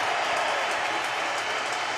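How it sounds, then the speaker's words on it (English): A full stadium applauds Lionel Messi as he stands with teammates and a golden ball trophy, producing a dense, steady roar of clapping and crowd noise that fills the whole clip. "Leo Messi there with the boys, receiving the applause of the whole stadium"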